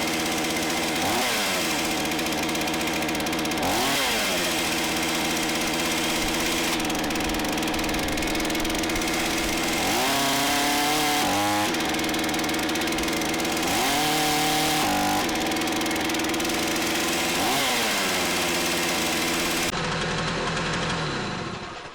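A Hyundai chainsaw running continuously with its chain still spinning after the trigger is released, a loud buzzing engine that rises and dips in revs several times without stopping.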